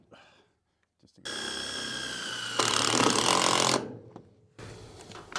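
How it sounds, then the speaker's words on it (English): A power drill drives self-tapping screws into end-grain wood in a garage workshop, with two long, loud, steady bursts of whining motor and grinding, the second harsher, then a short trailing burst. "I know it's screwing into end grain"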